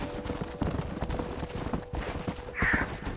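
Horse hooves gallop in the Western video game Red Dead Redemption, a steady, fast clip-clop rhythm that stays close and loud throughout, with a brief whinny-like cry near the end.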